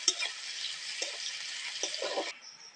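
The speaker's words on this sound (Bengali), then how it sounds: "পেঁয়াজটাকে একটু হালকা করে ভেজে নেবো।" Onions fry in hot oil for a chicken-filled semolina snack, a close, bright sizzling hiss with a few soft knocks of stirring, cutting off sharply before a faint high hiss remains.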